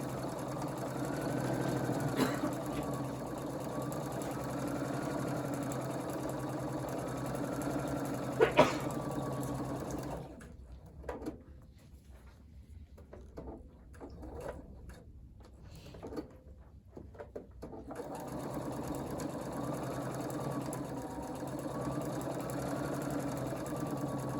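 A sewing machine runs steadily with a fast, even whir, pauses for several seconds with faint handling noises, then resumes stitching at the same pace.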